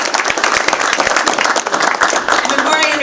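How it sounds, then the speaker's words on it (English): A luncheon audience claps for a guest, dense many-handed applause with distinct sharp claps close by, staying strong throughout while faint voices mingle underneath. "let's give Jay a round of applause."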